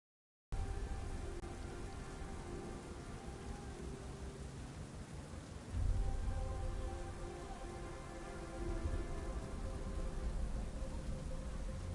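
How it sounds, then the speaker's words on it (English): Rain in Batman: Arkham Knight pours steadily in a soft, even hiss, with faint tonal hum layered over it and a slight swell in intensity partway through. "What's with all the rain?"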